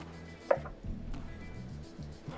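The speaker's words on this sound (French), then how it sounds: "Si elles sont un peu plus grosses, vous pouvez les couper en 6 ou en 8." A knife quartering potatoes on a cutting board, a few soft, close chops and knocks at uneven intervals, fairly quiet against low background hum.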